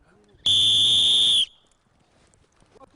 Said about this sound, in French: Au coup de sifflet